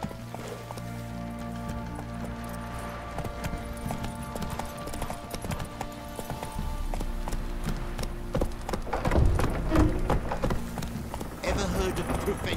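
Horse galloping in The Witcher 3, a steady rhythmic clip-clop of hooves over a low game soundscape, with a brief voice spoken over it and the pace swelling louder toward the end.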